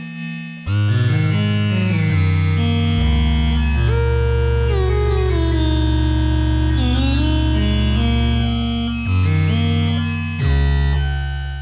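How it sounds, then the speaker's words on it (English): A loud, buzzy wavetable synthesizer oscillator holds sustained chords with gliding pitch bends and a harsh, harmonically rich timbre, no voices present. "Do you hear this? That's just the wavetable."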